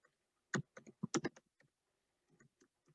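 Computer keyboard typing in two quick bursts of clicks followed by a few scattered keystrokes, close and quiet with no talking.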